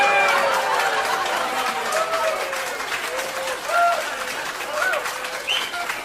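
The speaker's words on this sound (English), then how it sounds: "Notice how they're clapping." A comedy audience claps and murmurs through a stand-up show, sustained applause with scattered voices and whistle-like cries rising over the clapping.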